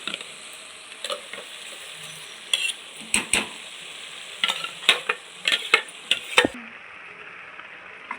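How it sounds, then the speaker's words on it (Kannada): Ground masala, tomato paste and vegetables fry in sesame oil for bele sambar, with a quiet steady sizzle broken by a series of sharp spoon scrapes and taps against the pan. "ರುಬ್ಬಿರೋ ಮಸಾಲೆ ಹಾಕ್ಬಿಟ್ಟು ಇವಾಗ ಚೆನ್ನಾಗಿ ಹಸಿ ವಾಸನೆ ಹೋಗೋವರೆಗೂ ಇದನ್ನು ಟೊಮೊಟೊ ಪೇಸ್ಟ್ ಫ್ರೈ ಮಾಡ್ಕೊಬೇಕು"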